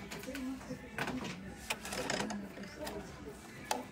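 Sewing machine stitching over an earlier seam on a fabric pouch, a steady mechanical whir with brief pauses and bursts, at moderate level with a voice talking over it.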